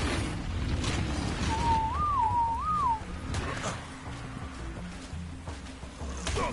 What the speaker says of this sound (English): Had to quickly whistle passive so everything didn't go absolutely berserk.